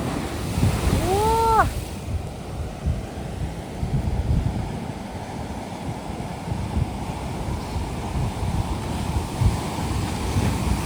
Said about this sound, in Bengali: সমুদ্রের তো বিশাল আওয়াজ আসছে।